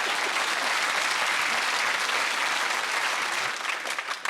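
A studio audience at a British topical comedy panel show applauds loudly and steadily, then the clapping thins out and tapers off near the end.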